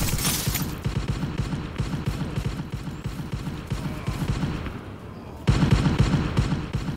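Rapid gunfire from a firefight in the space combat game SpaceBourne 2, a dense rattling stream of shots that swells louder near the end, with faint talk underneath.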